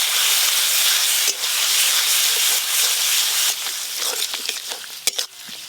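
Spinach paste frying in hot oil with turmeric and chili powder in a Bengali home kitchen, giving a steady loud sizzle and hiss throughout with occasional stirring clatter, no talking.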